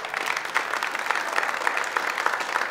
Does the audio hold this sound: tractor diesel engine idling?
no